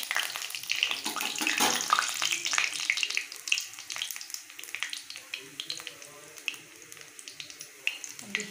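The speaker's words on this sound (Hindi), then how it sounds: "देखिए अच्छे से छौंक तैयार हो चुका है" Garlic tempering sizzles and crackles in hot oil for a spinach saag, a steady close frying hiss that gradually thins toward the end.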